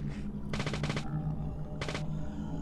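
Gunfire in the video game Deadly Premonition: two rapid bursts of automatic shots close together, then a third short burst after a pause, loud and dry against a low game hum.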